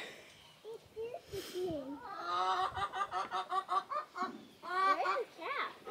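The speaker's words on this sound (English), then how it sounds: "There's more chickens back there." Chickens on a family homestead cluck and squawk in a busy run of rhythmic, pulsing calls, fairly close and moderately loud, with people talking faintly around them.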